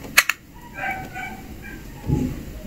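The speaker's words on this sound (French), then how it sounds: "Oh, le chien du voisin qui sort." A neighbour's dog gives a couple of short, sharp yips, then a faint whine and a muffled low bark a little way off.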